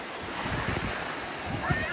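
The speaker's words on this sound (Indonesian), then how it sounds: "Ayo ombak, ombak." Ocean waves break on Pengerang beach in Johor with a continuous, close wash of surf and wind buffeting the microphone, and no clear speech over it.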